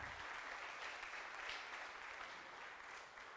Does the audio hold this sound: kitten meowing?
no